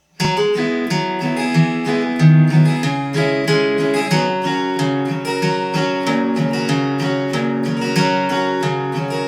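An acoustic guitar with a capo is flatpicked in a bright, busy pattern of bass notes and strummed chords, played steadily and close up, with no voices.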